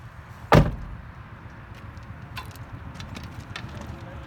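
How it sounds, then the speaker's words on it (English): A truck cab door during a CDL pre-trip inspection outdoors, a single sharp close slam near the start followed by faint light clicks and clunks over steady outdoor background noise. "The door opens and closes properly from the outside"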